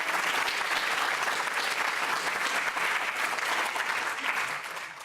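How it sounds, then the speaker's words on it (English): A lecture-hall audience at a public neuroscience talk applauds the speakers, with many hands clapping in a dense, even roar for about five seconds before the sound starts to thin out. "So you can give them a round of applause for that."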